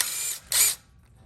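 A bolt being taken out to drain the coolant on a 20-year-old Yamaha 4x4 ATV, heard as two short, close whirring bursts from a ratchet or power driver.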